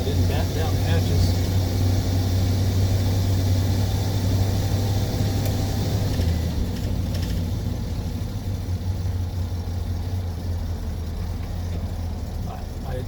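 A 1982 Ford Brougham RV engine idles steadily with a low, droning hum that shifts slightly partway through, loud and close, with background noise around it.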